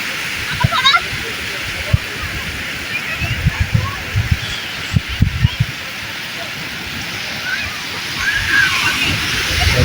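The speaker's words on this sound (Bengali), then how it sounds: "সমুদ্রের গর্জন" Sea waves roar onto the beach at Kauar Char, Kuakata, a steady broadband wash with heavier surging bursts, close and fairly loud, with voices talking faintly underneath.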